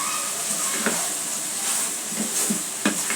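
Bitter gourd frying with egg in a pan hisses steadily up close while a utensil stirs it, adding a few light scraping taps and clicks.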